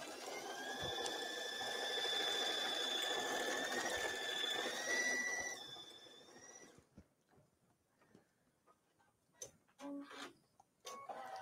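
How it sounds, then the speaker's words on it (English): An embroidery machine stitches letters onto a pillow, giving a steady whirring, tonal hum for several seconds that then stops, followed by scattered faint taps and handling clicks. "So while that's embroidering the letters"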